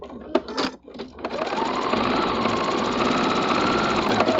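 A sewing machine stitches quilt fabric for a patriotic star quilt block. After a few brief handling noises it settles into a close, continuous whirring hum of rapid stitching.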